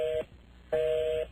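A telephone busy signal heard through a call: two steady mid-pitched tones, the first cut short and the second lasting about half a second, separated by a brief gap.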